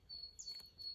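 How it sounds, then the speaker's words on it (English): Birds chirp in the open air at sunrise, a few short high tweets spread across one second against a faint low rumble of background, with no talking. "Birds."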